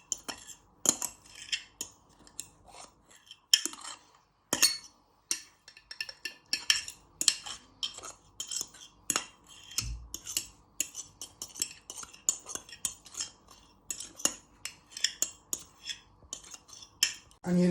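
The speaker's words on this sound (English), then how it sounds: "you use the back of your fork to scrape it all out" The back of a fork scrapes seafood pasta sauce out of a dish into a mixing bowl, producing repeated close metallic scrapes and clinks in an irregular rhythm with short pauses between strokes.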